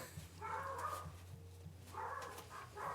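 Dogs bark in short repeated bursts at moderate distance, a few yips and woofs in quick succession, with construction noise hinted faintly in the background.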